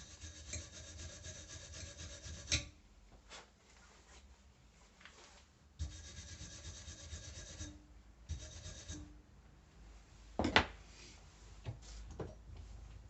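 A wire brush scrubs metal after MIG welding in several bursts of rough, rasping strokes, each lasting a few seconds and separated by near silence, with a few sharper scrapes and knocks. The scrubbing is close and fairly faint.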